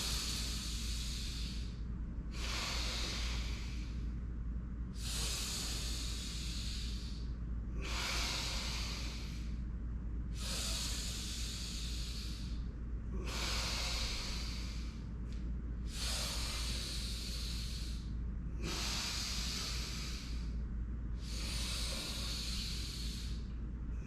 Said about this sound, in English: each rotation half inhale and half exhale